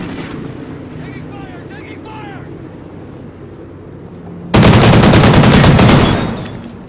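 Gunfire in a video game: after a stretch of low background rumble with faint voices, a sudden loud burst of rapid automatic fire rattles for about two seconds, close and harsh, then fades.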